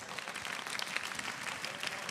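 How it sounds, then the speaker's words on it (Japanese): An esports tournament audience at a Persona 4 Arena Ultimax top-eight event applauds the two players, a dense, even wash of clapping from a crowd that stays fairly distant and continuous throughout. "2人の選手にまず大きな拍手をお願いします。"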